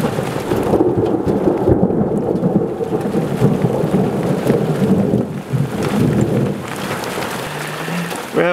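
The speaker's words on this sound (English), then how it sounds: "Some storms are developing around the area." Heavy rain pours steadily while low thunder rumbles and rolls through at a canyon campsite by Deadman's Creek, close and loud, with no voices.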